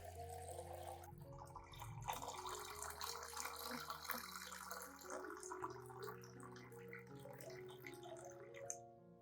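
About a liter of room-temperature clean water pours into a glass container, a continuous quiet splashing and gurgling stream that shifts in tone as the vessel fills.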